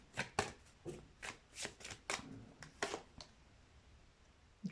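Tarot cards are shuffled and drawn during a pick-a-card reading, giving a close series of crisp riffling and slapping bursts in an uneven rhythm that fades toward the end, with no speech.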